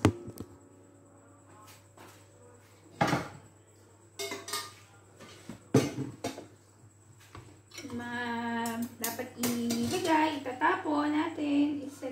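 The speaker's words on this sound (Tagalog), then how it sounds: "Samahan niyo po akong maghugas." Dishes washed by hand in a sink give off sporadic clinks and clatters of plates and utensils, with sharp knocks, then running water and a voice talking over the later clatter.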